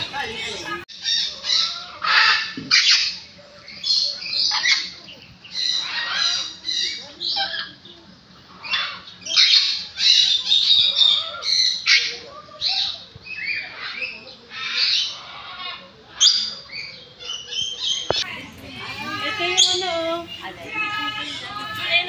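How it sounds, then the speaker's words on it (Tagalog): Many kinds of birds squawk and screech at a zoo in Pilillla, Rizal, where macaws are kept, with loud harsh calls in bursts close by, mixed with children's voices and chatter. "Dito naman tayo, daming klase ng ibon dito."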